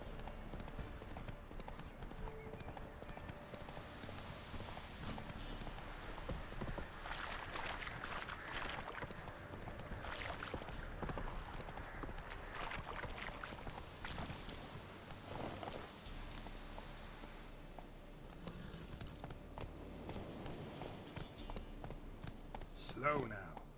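Roach the horse trots along in the video game The Witcher 3, hooves clip-clopping in a steady rhythm for a long stretch, faint and low beneath ambient game sound, with a person talking over it.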